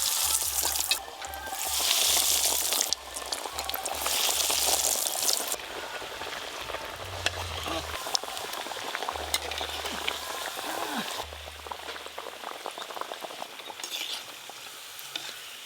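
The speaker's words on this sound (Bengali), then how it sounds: "চপ ভাজার জন্য তেল খুব ভালো করে গরম হয়ে গেছে, এবার চপগুলো ভাজবো।" Banana flower chops deep-fry in very hot oil, giving a steady crackling sizzle with occasional stirring clinks and scrapes. A low hum sits underneath, and the frying softens and flares in stretches.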